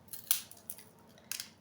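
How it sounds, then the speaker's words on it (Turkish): A knife cuts along the edge of a plastic cup, giving three short, crisp snipping crackles spaced across a second and a half, close and distinct against a quiet background. "Tekrardan bardağımın kenarından kesip bu şekilde çıkarıyorum."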